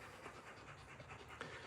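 Dogs pant quietly in rapid, steady breaths in a home, faint and continuous with no talking.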